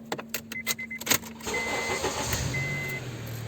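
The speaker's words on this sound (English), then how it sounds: "So start my car." A car engine is started by a mobile mechanic: rapid cranking bursts give way to the engine catching and settling into a steady idle, heard up close with no talking.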